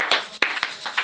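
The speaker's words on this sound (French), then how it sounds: "On acclame pour le Seigneur Jésus-Christ." Hands clapping in a church service, a short burst of several sharp claps at an irregular rhythm, close and fairly loud, with no voices over them.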